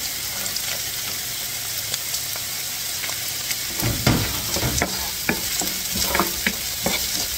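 Garlic sizzles steadily in hot oil in a pan while cooking chicken pastil, with a spoon or spatula scraping and stirring in quick, close strokes over the constant frying hiss.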